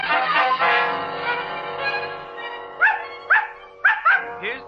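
A dog barks in an old 1948 radio detective drama, a few short sharp yaps near the end following a stretch of people talking.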